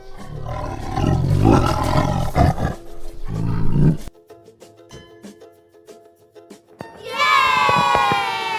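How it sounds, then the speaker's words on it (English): A tiger's roar in a toddler animal-names lesson comes as a loud, rough burst that swells and fades, then goes quiet for a stretch before a second bright, harmonic cry rises near the end. "Tiger माने चीता।"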